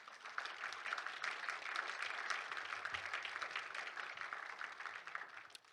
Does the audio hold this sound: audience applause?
yes